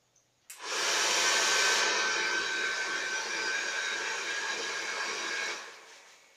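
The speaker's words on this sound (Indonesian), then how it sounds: "Tahapan pengering tangan." Hand dryer on an Arduino-based smart sink switching on with a click, then blowing a steady loud airy whoosh for about five seconds before winding down, with no speech.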